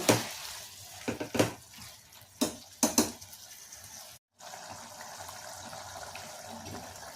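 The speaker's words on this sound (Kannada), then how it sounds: "ಮಶ್ರೂಮ್ ಹಾಕಿ ಉರಿತಾ ಇದೆ" Mushrooms frying in a pan for biryani, a soft steady sizzle broken by a few sharp clatters of a spoon against the pan, with a brief dropout partway through.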